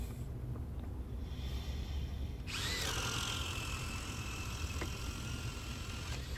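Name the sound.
Metabo HPT cordless drill with 1.5 inch Jorgensen paddle bit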